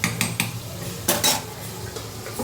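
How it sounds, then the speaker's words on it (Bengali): A spatula clinks and scrapes around a metal pan as masala paste is stirred and fried, with sharp utensil knocks near the start and a louder clatter in the middle over a low background hum. "মশলাটা কষিয়ে দিয়ে দিই।"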